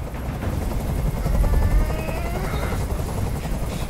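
A helicopter in the video game Detroit: Become Human gives a loud, steady rotor roar that holds for the whole stretch, with some percussive bursts mixed into the dense low rumble.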